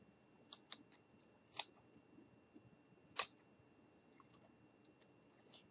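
Scissors snip out a shoe shape traced from a pattern, giving a few sparse, crisp close clicks and cuts with quiet pauses between them.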